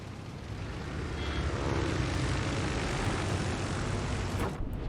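Carrier aircraft engines roar in a naval warfare game as planes launch from a British carrier, HMS Indomitable, a steady loud propeller drone filling the whole stretch with no voices.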